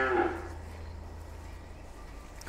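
A cow on a Vietnamese cattle and duck farm gives a short, low moo at the start, then fades into steady outdoor background noise with faint sounds of people.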